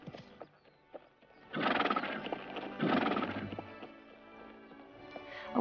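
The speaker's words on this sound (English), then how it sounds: "A walking horse often has both left legs on the ground while both right legs are in the air" A horse neighs loudly twice, each whinny long and close, over soft hoof clops of a walking gait and faint background noise.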